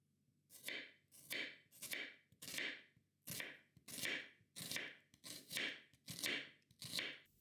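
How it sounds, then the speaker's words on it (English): A knife thinly slices potato and onion on a board in about ten crisp, evenly spaced cuts. Each cut is close and clear, with quiet between strokes. "Start by thinly slicing one potato and onion."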